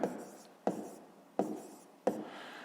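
Hand writing numbers in a fifth-grade maths exercise, four quick pen or pencil strokes scratching on paper at a steady pace, close and faint.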